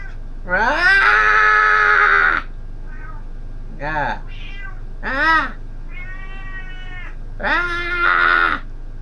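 A hungry cat squawks and meows loudly and close, a long drawn-out yowl followed by several shorter rising and falling meows, then another extended cry.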